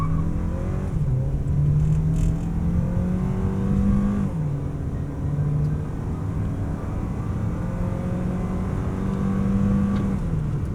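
A 2025 Toyota Alphard Executive Lounge with a 2.4L four-cylinder turbo engine accelerating in Normal Mode, a loud steady engine hum rising in pitch through upshifts, heard from inside the cabin.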